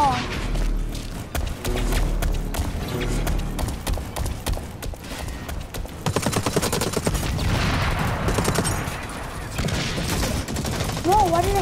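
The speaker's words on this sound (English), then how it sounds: "Whoa, why did I stop shooting?" Rapid bursts of gunfire from the shooter game Blacklight: Retribution crackle through a busy mix of effects, with shots that come and go in uneven, dense runs and a player's voice talking excitedly over them.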